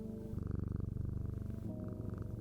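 A cat in the video game Strange Antiquities purrs while being petted, a close, steady rumbling purr with a quick regular pulse that carries on unbroken.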